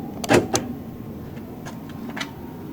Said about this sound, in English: Going to depress the button to lock the door.